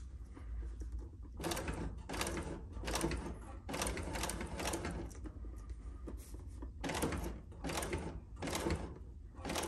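A sewing machine stitches leather for a bag in repeated bursts of fast mechanical whirring and clatter, each run lasting about a second with short pauses between, close and steady.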